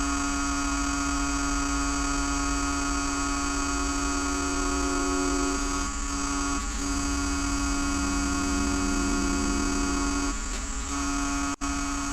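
A wood lathe turning an apple-wood piece runs steadily at about 1400 RPM, giving a continuous motor whir and hum with strong tonal overtones, moderately loud and close, with a few brief dips and a sharp click near the end.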